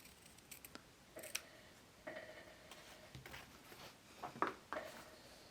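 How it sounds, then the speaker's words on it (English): Scissors snip through fabric to trim away bulk at a corset corner, cutting at an angle: a few quiet, sharp clicking cuts spaced irregularly, close to the listener in an otherwise hushed room. "I'm going to grab my scissors and trim at an angle."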